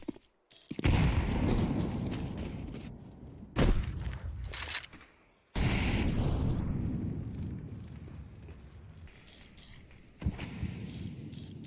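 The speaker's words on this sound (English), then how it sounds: "you hear that nade on the mid-smoke" A grenade explodes on the mid smoke in Counter-Strike 2, heard as loud, abrupt blasts and bursts of gunfire separated by short gaps, each followed by a decaying rumble.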